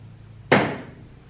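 A car door on a 1984 Mazda RX-7 GSL-E comes off during a chassis teardown, giving one sharp, loud thud of metal and wood-like impact that rings briefly and fades, heard close with no talking.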